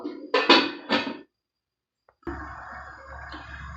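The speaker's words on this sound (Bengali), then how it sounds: "আমি এবার ঢাকা দিয়ে দিচ্ছি, সেদ্ধ হোক।" A metal lid clatters onto a pot of lentil dal cooking with bottle gourd, giving a few sharp clinks. A short silence follows, then a steady simmering hiss.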